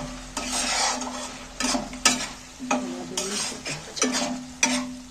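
Potatoes stir-fried in masala in a pan, with repeated scraping strokes of a spatula against the metal over a low continuous sizzle, a rhythmic series of about eight stirs, close and moderately loud.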